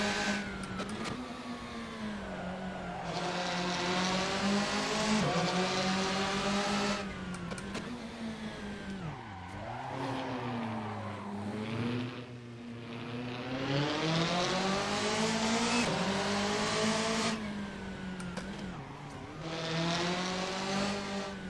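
A car engine in the racing game Assetto Corsa revs up and down through repeated gear changes, with rising harmonic whines and brief tire noise, steady and moderately loud with no talking.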